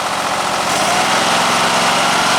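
A Kohler engine on a Craftsman lawn tractor runs loud and close, with a steady dense droning hum and a slight rise as the throttle moves.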